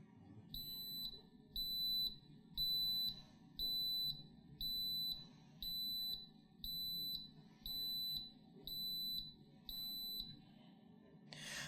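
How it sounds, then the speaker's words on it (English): An Instant Pot pressure cooker making Spanish rice sounds its alarm, a run of about eleven steady, evenly spaced high electronic beeps, each roughly half a second long, clear over a low kitchen hum. "so now that the buzzer's gone off, we are just going to let it sit here for 10 to 15 minutes"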